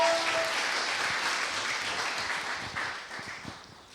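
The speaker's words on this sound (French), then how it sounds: "on peut l'encourager, on peut l'applaudir" Warm audience applause for a speaker about to take the floor, steady clapping from a room of people that gradually thins and fades toward the end.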